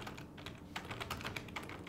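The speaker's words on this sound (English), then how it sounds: "I'm just going to put in some text real quick" Rapid typing on a computer keyboard while entering text into a word-processing program, with a steady run of close, crisp key clicks and no talking.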